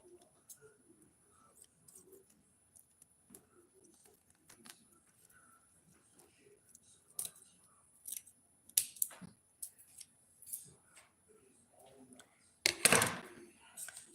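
Scissors snip through material on a Christmas tree mannequin being finished by hand, a few quiet, scattered cuts followed by one louder, longer burst of snipping near the end, with faint background sounds between.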